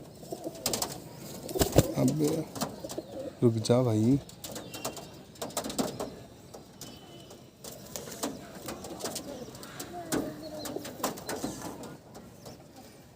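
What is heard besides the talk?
old-breed pigeons cooing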